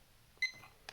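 An IKEA alarm clock timer gives a short, bright electronic beep, faint against the quiet room, then a brief soft click.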